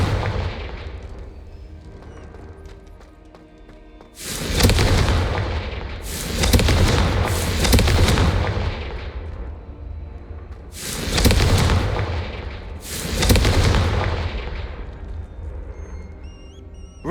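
Confringo fire spells explode in the Hogwarts Legacy video game as four or five heavy booming blasts, each with a long rumbling decay, loud and close over a low background hum.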